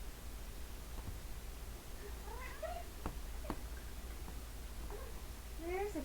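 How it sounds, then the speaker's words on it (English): A pet cat named Phoebe, an old female, meows a few times, short rising-falling calls standing clear over a steady low hum and soft background noise, with no talk. "There's a kitty."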